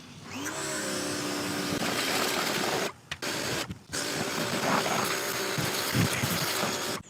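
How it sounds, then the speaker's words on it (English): A pressure washer sprays hard against the brakes of a Peugeot Partner van to blast out brake dust. It gives a loud, steady, hissing rush that breaks off twice briefly before resuming. "I'm going to pressure wash them out first"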